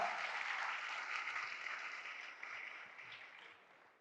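An audience at a public event claps together, giving a dense, fairly faint, continuous round of applause that tapers off toward the end.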